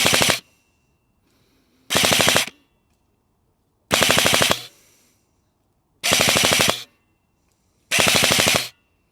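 A Cyma CM.009E XM177 airsoft replica fires 0.28 gram BBs in five short full-auto bursts, each a loud close rattle of rapid shots separated by silence.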